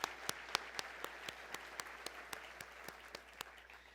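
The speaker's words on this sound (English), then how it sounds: "Let's give them a round of applause again." Faint audience applause at the 2019 Mobility 21 Summit opening general session, with distinct sharp claps standing out in a steady, regular rhythm over a soft wash of clapping.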